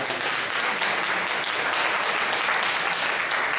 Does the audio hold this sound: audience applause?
yes